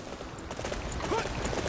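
Rhythmic clip-clop of a galloping horse's hooves in the video game Dynasty Warriors, steady and fairly loud, with a brief whistling tone partway through.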